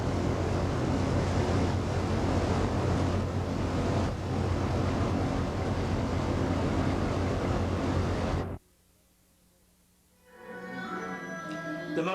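Boat ride on the Yellow River near Lanzhou: loud, steady wind-blown rush of water and engine noise that cuts out abruptly, followed by quieter ambient sounds.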